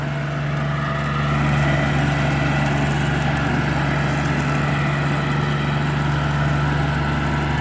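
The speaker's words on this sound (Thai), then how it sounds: "เครื่องตัดหญ้าขนาดเมตรยี่สิบครับ" A 1.2-metre lawn mower mounted behind a tractor runs continuously with a steady low engine hum and rough whirring, close and unchanging, with no voices.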